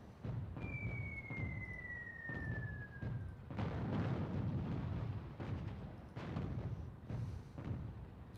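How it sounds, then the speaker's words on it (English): Enemy airstrike in the World War II strategy game Attack At Dawn: North Africa: a falling whistle followed by a series of deep, rumbling explosions and repeated booming impacts, fairly quiet overall. "Other enemy airstrike"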